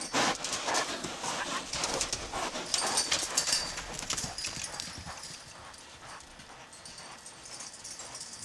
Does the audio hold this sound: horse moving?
yes